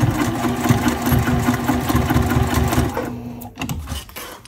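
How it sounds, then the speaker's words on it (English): A sewing machine stitches the sides of a leather trifold wallet, running in a steady, rapid mechanical chatter for about three seconds before stopping, followed by a few handling clicks. "I'm just going to go ahead and finish sewing the other three sides over here."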